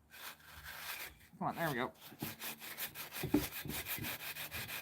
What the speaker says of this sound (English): I've stuck the sandpaper through on both sides so that I can get a little better